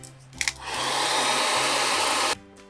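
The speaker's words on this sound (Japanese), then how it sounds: "前、ドライヤーが弱かったのかな。" A hair dryer heating a bucket seat shell switches on after a couple of clicks, blows as a loud, steady whooshing roar for about two seconds, then cuts off.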